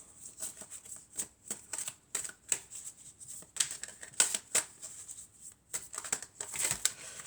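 Tarot cards are handled and shuffled close by. Crisp papery riffles and taps come in quick irregular bursts, with no voice.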